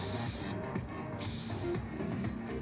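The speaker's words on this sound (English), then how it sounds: "Now, let's try out the level 6." Short bursts of spray from a Montana Level 6 fat cap on a spray paint can, a steady hiss that starts and stops in a couple of bursts, close and fairly quiet, with no talking.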